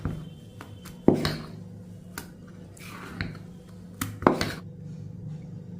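A spoon or ladle stirs dosa batter in a metal bowl, giving repeated sharp clinks and scrapes in an uneven rhythm, close and fairly quiet.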